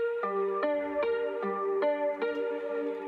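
A guitar melody with every note quantized exactly on the grid plays as short, evenly spaced plucked notes in a steady mechanical rhythm, clean and close with a light effects sheen and no voices.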